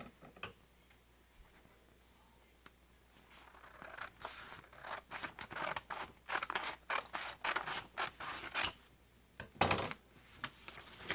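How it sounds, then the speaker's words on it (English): Scissors snip through stacked sheets of paper being trimmed for a painted wooden sign, a quick run of close, crisp cuts and rustles that grows busier partway through. "I'm matching up this as I cut it off"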